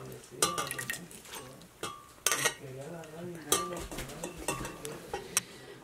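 Dried guajillo chiles dropped into a blender jar, several light clattering knocks and clinks, irregular and close, with faint background voices.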